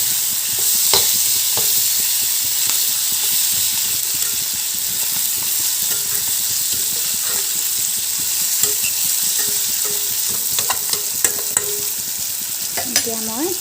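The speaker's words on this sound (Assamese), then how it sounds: "জালুকহে তেলতে দিছোঁ" Whole black peppercorns fry in hot oil in a pan, giving a steady close sizzle that holds for the whole stretch, with a few faint clicks and scrapes near the end.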